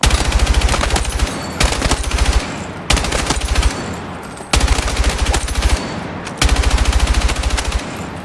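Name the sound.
assault rifle gunfire in video game Battlefield 6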